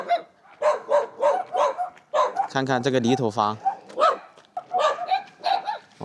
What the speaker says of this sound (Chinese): 哇，狗一直在叫个不停。